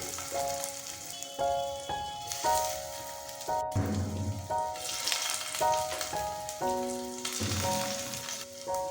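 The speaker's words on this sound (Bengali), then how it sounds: "করলাগুলোকে আমরা উল্টে পাল্টে লাল লাল করে ভেজে নেব।" Stuffed bitter gourds fry in hot oil in a frying pan, giving a steady, soft sizzle that runs throughout beneath louder melodic background music.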